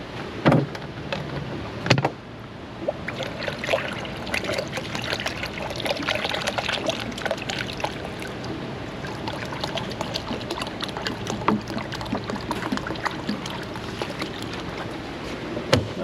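Water is poured to top off the engine coolant of a high-mileage vehicle, giving a steady splashing trickle with a few sharper clatters near the start. It is moderately close, with no voices.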